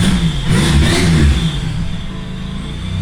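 A car engine starts and revs after intake manifold gasket replacement, a loud, close rumble that swells and then settles into a steady run.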